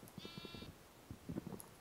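A sheep bleats in a video game, a short, faint call over low rustling and scattered knocks, with no talk.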